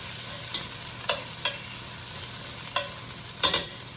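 Green beans sizzling in a pan and being stirred, a constant hiss punctuated by about five quick scraping strokes, the last ones louder, with no voices.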